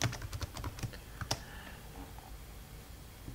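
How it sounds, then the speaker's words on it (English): Typing sound effect in the Kerpoof Movie Maker online animation tool: a quick burst of crisp keyboard clicks in the first second and a half, then a lone click and quiet hiss. "Clicking here will kind of type the text."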